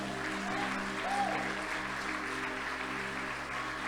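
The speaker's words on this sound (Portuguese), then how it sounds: "Aplauda o nome do Senhor" A church congregation applauding during a service, a steady wash of clapping from many hands throughout, with a low hum beneath.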